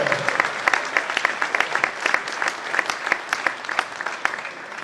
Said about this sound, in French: Merci d'applaudir Kiris Kashkov.